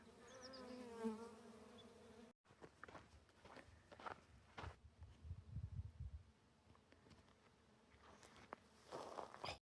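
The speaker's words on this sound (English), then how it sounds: "this buckwheat has so many happy little bees" Faint buzzing of bees moving around buckwheat flowers outdoors on the Pacific Crest Trail, with rustling and soft footsteps nearby over a quiet background.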